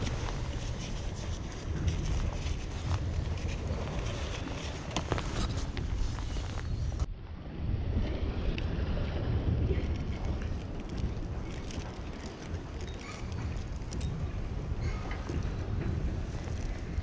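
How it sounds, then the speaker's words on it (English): Steady wind roars at sea over a fishing boat out squid fishing after a storm, a loud, unbroken broadband rush that buffets the microphone throughout. "that wind is definitely still blowing."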